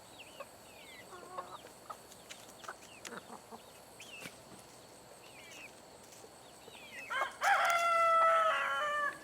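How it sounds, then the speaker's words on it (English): A rooster on a farm lets out a single loud cock-a-doodle-doo near the end, following soft chicken clucks and faint background calls. "I think Wild Berry's got you beat on the cockadoodle doing."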